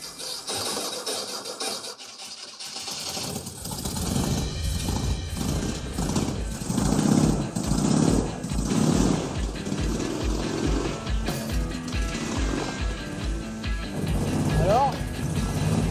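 Vintage Sovra LM1 buggy engine catching after a quiet start, then running with a steady, rough rapid chugging close by, some clatter and rattles over it.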